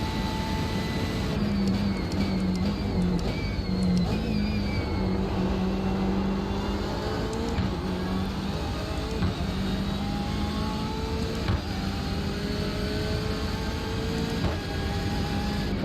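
BMW race cars lapping Summit Point in iRacing, a steady loud engine roar with pitch rising and falling through gear changes and corners, continuous and close, with no talk.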